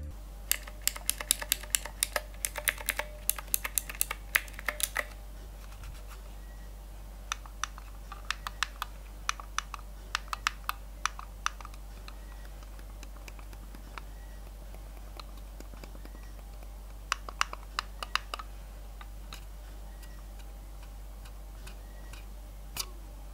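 Soft, muted clicks of a Logitech Signature M650 silent-click mouse tapping in quick bursts, then sparser single clicks, close up with a faint steady hum behind.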